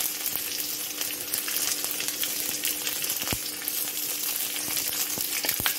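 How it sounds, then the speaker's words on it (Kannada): Onion and chilli frying in a pan give a continuous bright sizzle with a few sharp crackles and pops, close and steady, with no speech. "ಸ್ವಲ್ಪ ಫ್ರೈ ಆಗೋಣ"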